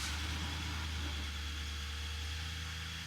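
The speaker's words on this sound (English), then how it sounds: "so let's try start the car" A Nissan Patrol Y62 sits idling after starting, giving a steady low engine rumble with a constant hum and no voices.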